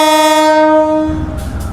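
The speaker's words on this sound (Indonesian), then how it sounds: "kereta api Gajah Wong diberangkatkan kembali dari stasiun Utowinangun" The Gajah Wong passenger train, an Indonesian express hauled by an old locomotive, sounds a loud, sustained horn on leaving Utowinangun station at night, then the blast ends as low rumbling and rolling noise take over.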